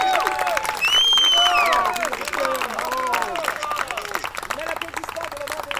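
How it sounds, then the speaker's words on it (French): Audience applause and cheering for the mayor of Hérouxville, Mr. Thomson, at the opening of a tournament, a loud sustained crowd roar with whistles and shouts carrying over the clapping throughout. "Mais l'applaudissement pour le maire d'Hérouville, M. Thompson, s'il vous plaît"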